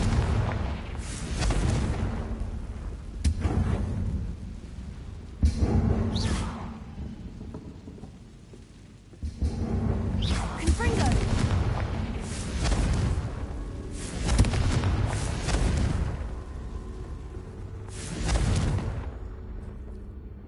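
Confringo explosion spells in Hogwarts Legacy on PS5 go off in a series of deep booming blasts, several heavy bursts a few seconds apart, each with a rumbling tail.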